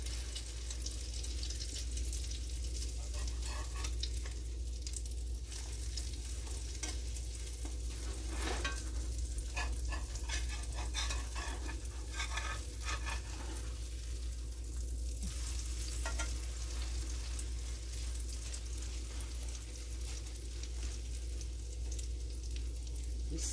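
Food frying in a pan after being flipped, a steady close sizzle with bursts of spitting crackle and a low hum underneath, no talking.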